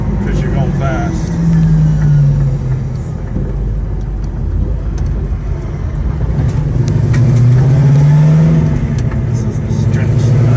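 A 1970 Dodge Charger R/T fitted with a Hellcat engine accelerates hard in third gear, its loud engine roar climbing in pitch twice as it pulls, with steady road and wind noise throughout.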